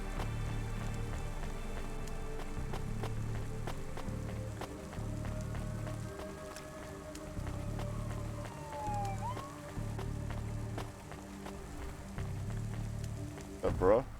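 Steady rain patters across a neon city street in the video game Cloudpunk. The hiss continues throughout over a pulsing low electronic hum, with a short louder sweep right at the end.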